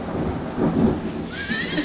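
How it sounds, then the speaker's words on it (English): A thunderstorm pours heavy rain in a steady hiss while a low rumble of thunder swells in the middle; a faint high tone enters near the end. "You guys ever see a thunderstorm like this before?"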